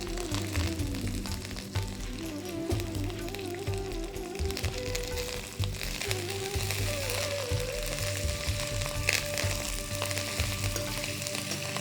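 Cashews sizzle and crackle steadily in hot oil in a home kitchen pan, a continuous close bubbling fry with small pops and faint stirring throughout.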